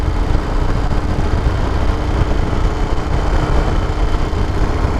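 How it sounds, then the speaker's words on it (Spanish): A Moto Guzzi Stelvio motorcycle engine runs steadily at low revs, giving a continuous close rumble with a dense broadband roar and no talking. "Un motor que trabaja bajito de vuelta"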